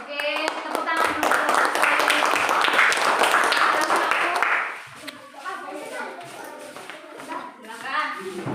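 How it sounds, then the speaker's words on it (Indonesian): A classroom of students claps together for about four and a half seconds after a group presentation, loud and dense. The applause then stops and children's chatter and voices carry on in the room. "Oke, tepuk tangan dulu."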